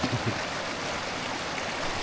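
A cold mountain stream flows steadily near Katra on the way to Vaishno Devi, a continuous close rushing wash of water, moderately loud and alone, with a slightly heavier gurgle in the first moment.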